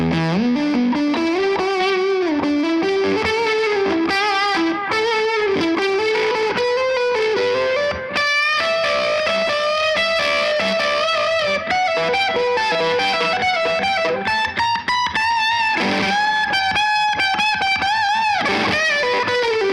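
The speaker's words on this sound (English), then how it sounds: "you end up having a clearer drive tone that kind of points to the fact that there's fuzz in there" Electric guitar played through a fuzz pedal boosted by a drive pedal, a loud, continuous, heavily distorted melodic line of sustained notes with a brief pause midway, no talking.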